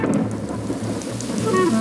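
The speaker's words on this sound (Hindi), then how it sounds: "बारिश हो रही है" Cartoon thunderstorm with a steady hiss of falling rain and a low rumbling backdrop, fairly close and continuous for a short moment, with no speech.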